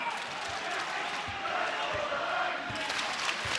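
A college basketball arena crowd roars in a broad, sustained wash during Utah State versus New Mexico, with periodic ball bounces on the court and a commentator talking over the noise.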